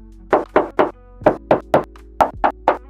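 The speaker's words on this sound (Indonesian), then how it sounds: "Kita tes ketok dulu." Knuckles knock on the body panel of a 2023 Suzuki S-Presso automatic, ten sharp, resonant raps close by in two quick groups of three and a final run of four.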